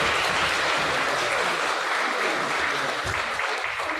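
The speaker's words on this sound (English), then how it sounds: "I would like to ask for one last round of applause for our fantastic panelists here." An audience at a community mental health forum claps steadily for the panelists, a dense, even wash of applause from many hands that holds for several seconds.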